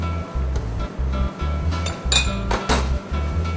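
Spoon clinking against a glass bowl while salt, sugar and olive oil are stirred into a fish marinade, a steady run of light, close taps and scrapes in repeating bursts.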